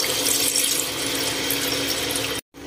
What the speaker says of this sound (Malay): Masuk air secukupnya.